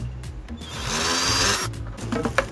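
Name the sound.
power drill drilling through plastic bucket and ring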